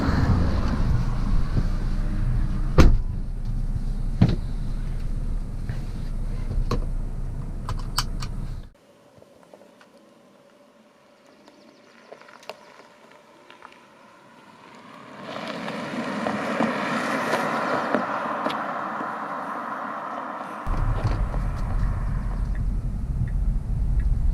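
A Tesla electric car driving, steady road and wind rumble in the cabin that drops to near quiet for several seconds, then builds back to a loud continuous roar.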